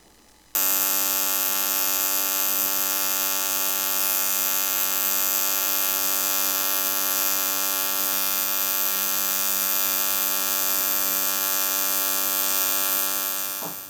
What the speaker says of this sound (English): This is a butt weld in 4mm alloy using the easy weld base settings. It's running in nice and smooth, very stable, constant arc.